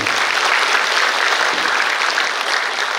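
A large audience at the 79th Liberation Day ceremony breaks into loud, dense, sustained applause for the descendant of an independence patriot, with no talking.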